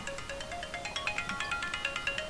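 A phone ringtone plays a repeating, bright electronic melody of short chiming notes, close and clear, looping steadily for a couple of seconds with no voices.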